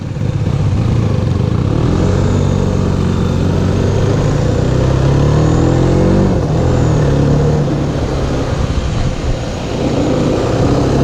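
A Mondial HPS 125 motorcycle on a test ride accelerates hard, its engine note droning loud and steady with rising pitch sweeps through the gears against constant wind rush, close up and without speech.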